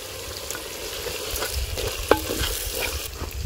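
Small onions sizzle and crackle steadily in a clay pot, with occasional stirring scrapes and one sharp clink near the middle.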